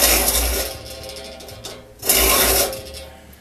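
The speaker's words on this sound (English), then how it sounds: "The thought behind the tilted saw vise is I can lay the file flatter" A hand file rasps across the teeth of a buck saw held in a tilted saw vise, two close, loud strokes, each a harsh scraping burst followed by a short pause.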